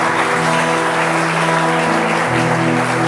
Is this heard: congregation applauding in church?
yes